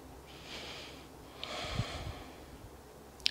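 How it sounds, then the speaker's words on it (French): Soft, close breathing of a person holding a beginner yoga pose, two slow airy breaths with a small snort-like exhale, faint and alone. "Encore 3 respirations ici."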